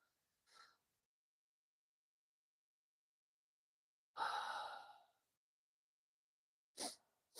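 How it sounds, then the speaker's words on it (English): A person yawns during a quiet, calm morning moment: one long, breathy yawn stands out near the middle, with brief soft breaths just before and after in otherwise near silence. "Noticing a yawn there"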